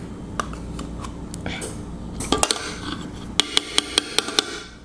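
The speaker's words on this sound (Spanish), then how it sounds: "Lo mezclo bien, el yogurt con toda la mezcla" A utensil mixes yogurt into banana protein muffin batter in a bowl, giving soft scraping and a run of sharp clicks against the bowl near the end, while someone talks early on.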